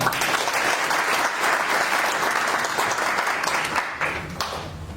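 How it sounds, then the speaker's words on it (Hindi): A seated audience at a motivational talk claps hard and continuously, a dense, loud wash of applause that holds steady for several seconds before starting to thin out. "जोरदार तालियां दो।"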